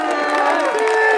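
Crowd at a patriot rally in Paris cheering and whooping, a loud, continuous roar of many voices with shouts rising above it.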